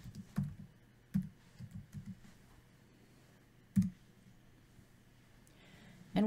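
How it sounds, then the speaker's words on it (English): Soft, sparse clicks of a computer keyboard as a presentation title is typed, with a few quick keystroke bursts separated by pauses, close and fairly quiet in a calm room. "Just typing in the title of our presentation today"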